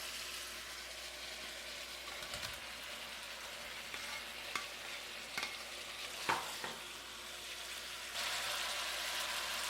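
Beef dropped into a hot pan and frying for a beef and pumpkin stir fry, a steady close sizzle with a few brief clatters and scrapes, growing louder and denser near the end; no talking.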